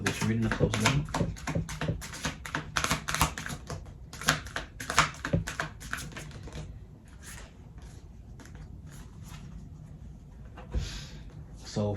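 Oracle cards are shuffled by hand in quick bursts of crisp, papery riffling and tapping, close and fairly quiet, with brief pauses between bursts.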